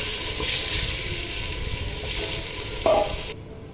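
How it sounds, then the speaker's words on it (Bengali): Ginger-garlic paste and spices fry in a pan for bhuna khichuri, giving a steady close sizzle with light stirring throughout, a brief sharper scrape near the end before it cuts quieter. "ভালো করে ভেজে নেব যাতে আদা রসুনের স্মেলটা না থাকে"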